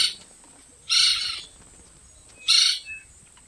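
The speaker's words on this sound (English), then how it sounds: "woodpecker" A woodpecker gives two loud, harsh, raspy calls about a second and a half apart, each lasting roughly half a second, over a quiet outdoor background.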